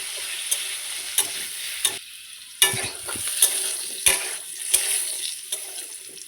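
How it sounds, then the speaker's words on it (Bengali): Potatoes fry in oil with turmeric powder and salt, a close, steady sizzle punctuated by regular sharp clacks of a spatula stirring against the pan. "এখন আমি আলুগুলিকে ভেজে নেব হলুদ গুঁড়ো,"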